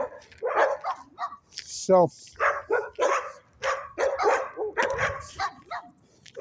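Several dogs bark and yip in a busy, overlapping chorus at close range, with someone talking over them throughout.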